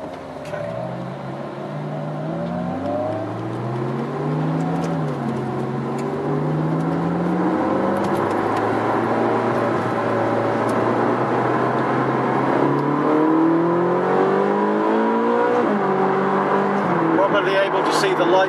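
A Ferrari 458 Speciale's engine revs hard and accelerates, its loud, continuous note sweeping up in pitch and dropping back at each gear change, then climbing again.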